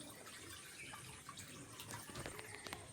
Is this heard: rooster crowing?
no